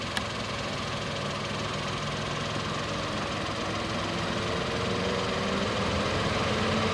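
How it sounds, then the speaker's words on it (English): A Hyundai i20 1.0-litre turbo petrol engine idles steadily nearby, a low, even hum with a faint rattle that holds constant throughout. "now the car is turned on. As you can see, listen to the engine over here."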